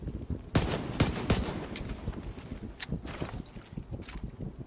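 Gunfire in The Division 2 video game, a series of sharp shots cracking out at irregular intervals over a steady game backdrop, fairly distant and moderate in level.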